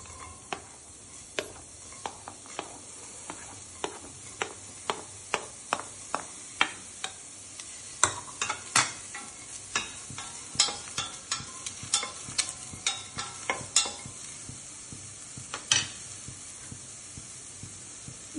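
Chilli and onions dry-frying in a preheated pan with no oil, a continuous bright hiss and sizzle punctuated by frequent scraping stirs and small pops, close and steady throughout.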